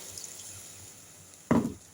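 After a quiet kitchen lull, water is poured into a pot of chicken curry, giving one short, sudden splash that dies away quickly.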